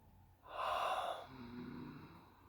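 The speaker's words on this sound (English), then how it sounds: "Exhale." A single slow breath out, soft and close, rising to a breathy rush and then trailing away, alone in a quiet room.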